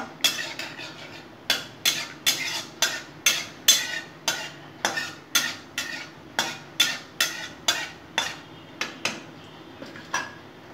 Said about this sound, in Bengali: জিরা ফোড়ন দিয়ে নিলাম, শুকনো লঙ্কা ফাটিয়ে দিয়ে দিলাম।